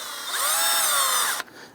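A power drill or impact driver whirs steadily while backing bolts out of a coolant crossover pipe on a 2011-2021 Jeep Grand Cherokee, a loud, close, sustained whine that cuts off abruptly near the end.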